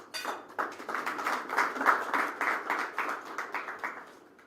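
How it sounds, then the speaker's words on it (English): Audience applause for the Registrar at a media launch event for the 32nd IEK International Convention, a dense steady patter of many hands clapping for several seconds, fairly close and without talk. "A round of applause for her"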